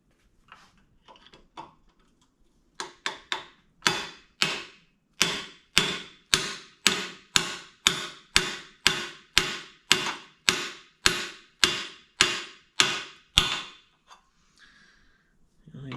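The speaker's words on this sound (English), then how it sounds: "get my hammer." A hammer drives a new rear axle bearing into place on a 1970 Chevrolet El Camino, using a driver cut from the old bearing: a few light taps, then about twenty steady, sharp metallic blows close by, with no talking.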